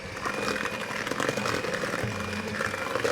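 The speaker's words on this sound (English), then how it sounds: "Now I'm going to whisk this for a minute until it's creamy." A whisk beats coffee walnut cake batter containing flour, baking powder and a coffee mix, producing a steady, buzzing motor-like whir that runs continuously at close range without any speech.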